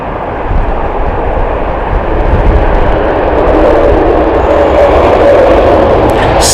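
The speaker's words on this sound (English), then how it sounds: "This is the San Diego flight, Airbus A350, beautiful A350." An Airbus A350 airliner on the San Diego flight crosses the runway in a crosswind at Heathrow Airport, giving a loud, steady, broadband jet roar that builds slightly and holds throughout, with no talking.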